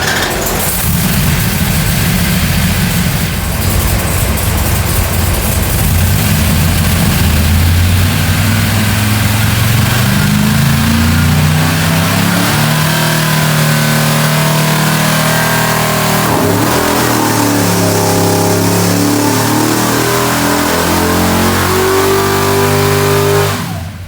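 Mopar 440 V8 roaring on a dyno during a power pull, loud and close, pitch climbing steadily as revs rise over a long sustained run without talk.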